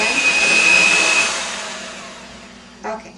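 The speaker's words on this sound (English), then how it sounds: "at this point I'm going to quit using my mixer" An electric mixer whirs loudly through bread dough made with yeast, its motor droning steadily before winding down and stopping, followed by a brief clatter.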